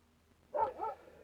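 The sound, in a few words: dog barking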